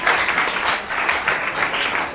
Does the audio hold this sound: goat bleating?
no